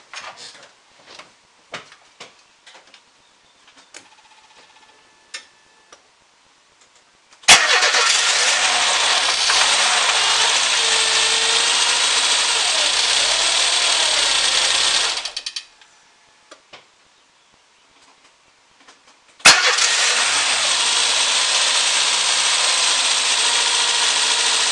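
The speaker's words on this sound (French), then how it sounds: "Bon ben ça a démarré du premier coup." A high-mileage 1995 Renault Twingo engine cranks and fires on the first try, then runs loudly and steadily for several seconds, cuts off, and starts again, with faint workshop clatter beforehand.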